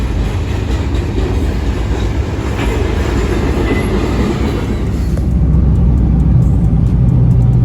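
A long train rumbles steadily past nearby, a loud continuous roar of wheels and cars that swells slightly louder toward the end.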